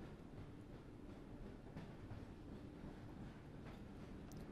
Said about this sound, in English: This is a long train ride.